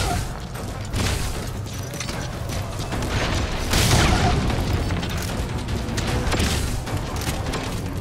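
Rocket explosions and gunfire in the video game Metal Gear Solid V: The Phantom Pain, a dense, sustained barrage of booming blasts and mechanical clatter with a heavier burst near the middle, loud throughout.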